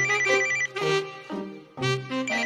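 Telephone ringtone of an incoming call in a Tamil TV serial, two loud electronic ringing bursts separated by a short gap, close and clear with no talk over it.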